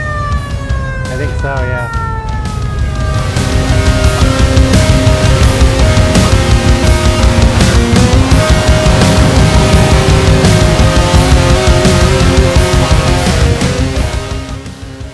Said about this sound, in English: let you hear the siren on this beauty